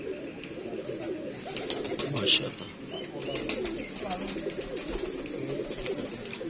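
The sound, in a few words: pigeons cooing, Grey Knight breeder pigeons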